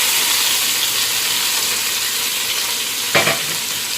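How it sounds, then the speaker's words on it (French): Fried onions sizzle loudly and steadily in a pot for red lentil soup as tomato and spices go in, with a short louder burst of hiss near the end. "une fois que mes oignons sont frits, je vais rajouter ma tomate et mes épices"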